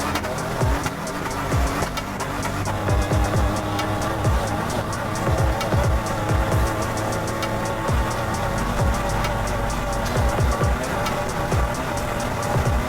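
Race truck on a speed run, its engine repeatedly revving and shifting in rising sweeps, loud and close with a rough, continuous drive noise underneath.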